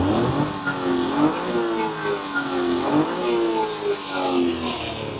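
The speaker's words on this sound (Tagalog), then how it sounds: "Yung makina natin is RO6E engine VVT 12 valve 3 cylinder." A mini van's R06E VVT 12-valve three-cylinder engine with timing chain runs close by, its pitch rising and falling in repeated short revs over a steady mechanical hum.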